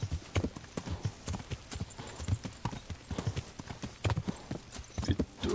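A horse at full gallop in the video game Kingdom Come: Deliverance, hooves pounding in a fast, steady rhythm, close and continuous, with faint snorting mixed into the clatter.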